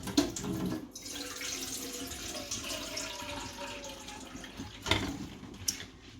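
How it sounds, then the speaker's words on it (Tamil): Steady stream of water splashing and pouring into a cooking pot of tamarind and bitter gourd, close and continuous, with a couple of louder splashes near the end. "கொஞ்சம் தண்ணி விடுவேன்"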